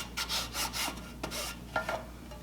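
The edge of a small wood piece for a homemade magnetic poetry kit is smoothed down by hand, giving about eight quick, rhythmic rasping rubs, close and moderately loud, with no talking.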